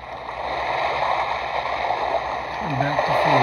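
An ocean track from a sound machine rolls as a continuous surf-like wash with gentle surges, and a person speaks briefly over it near the end.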